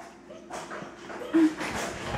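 A brief, thin whine from a puppy, close by, rising once amid soft shuffling noise.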